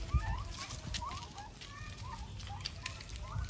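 Free-range turkeys about three months old cluck and call in short repeated bursts close by, with soft outdoor background noise and faint talk.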